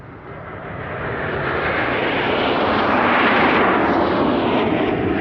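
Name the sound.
Sukhoi Su-24 Fencer attack aircraft flying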